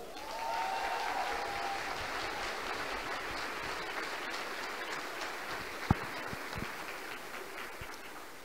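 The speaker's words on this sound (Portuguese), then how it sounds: "vocês merecem uma salva de palmas" Steady applause from a crowd, a dense wash of clapping that holds for several seconds, with one sharper knock partway through.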